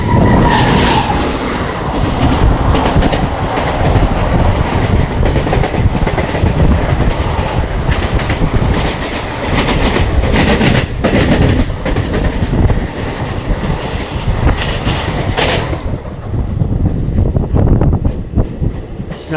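A train passing close by at speed, loud rumbling and rhythmic clattering of wheels on rails with metallic squeals, sustained for nearly twenty seconds with no talk.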